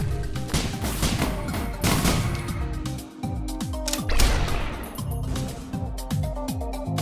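Bandit's rifle fires repeatedly in the action game Risk of Rain, sharp blasts cracking out at an irregular pace amid dense, loud game music and effects, with several quick shots bunched toward the end.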